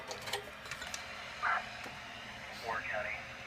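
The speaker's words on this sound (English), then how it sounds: "Only picking up static." Static hiss from a radio scanner with the squelch turned all the way down, a steady wash of broadband noise broken by a few brief chirping squeals, with no voices.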